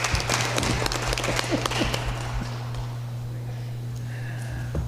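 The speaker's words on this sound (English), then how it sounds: "Golf clap." Quiet, polite applause at a city council meeting, scattered claps that thin out and fade over a few seconds beneath a steady room hum.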